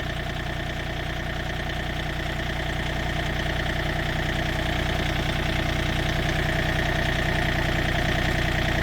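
A John Deere tractor engine idling close by, a steady, loud mechanical drone with an even throbbing pulse that holds unchanged throughout, with no talking.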